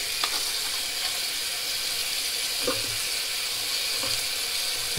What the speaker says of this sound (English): let me wash my face now.